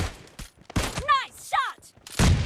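Gunfire in the battle royale video game PUBG: a few sharp, loud shots burst out between synthetic in-game voice callouts.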